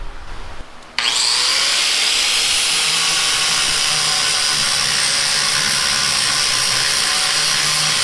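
Small welder fusing a thin steel gusset on a 1957 Ford Fairlane, starting with a sudden onset after a brief quiet moment, then a continuous loud crackling hiss that holds steady to the end.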